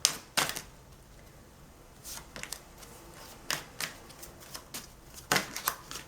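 Tarot cards being handled and shuffled in a quiet room, with sharp papery riffles and snaps in several bursts of rising and falling intensity.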